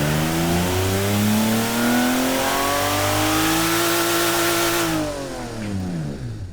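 Simulated car engine in the Automation car tycoon game revs loudly and steadily, pitch climbing then falling, before cutting to a quieter idle near the end.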